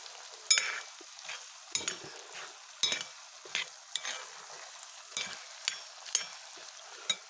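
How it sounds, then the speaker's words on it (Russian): Onion and carrot stewing in a pan, giving soft, intermittent sizzling with repeated stirring scrapes and clicks at a steady, unhurried rhythm, close and fairly quiet. "тушим луком, морковкой. Вот я тушу как раз."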